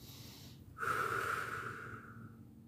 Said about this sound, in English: And do belly breathing